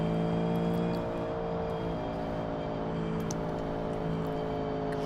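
Natsun Karana car engine in a video game, held at a steady drone that stays fairly constant, with a slight dip in pitch early on, heard alone with no voices.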